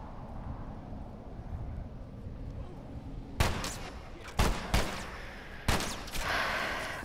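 Gunfire in The Last of Us: Left Behind, several sharp separate shots over a windy, rumbling game background, spaced irregularly in the second half.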